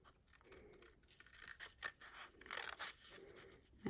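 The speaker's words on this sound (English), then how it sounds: "I'm just going to take my snips" Craft snips cut paper up close in a few quiet, irregular crisp snips and scrapes, faint and without talking.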